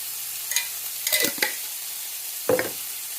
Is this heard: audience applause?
no